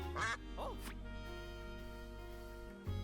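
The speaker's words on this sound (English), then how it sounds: "There's a quack button!" A cartoon duck quack triggered by a quack button in the video game Duck Detective 2, two quick quacks at the start over a steady hum of game music, then quiet music alone.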